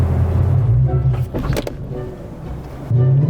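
A manual Ford Mustang GT S197 driving off, its engine rumbling loudly up close, easing as revs drop and surging again at the end.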